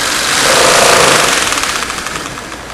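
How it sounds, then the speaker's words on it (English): A small electric motor in an electrical engineering demonstration whirs steadily, its pitch and intensity swelling and then easing as the supplied voltage is raised and lowered, with a fine rhythmic ripple running through the hum. "Notice the change of speed in our motor as I increase and decrease the voltage."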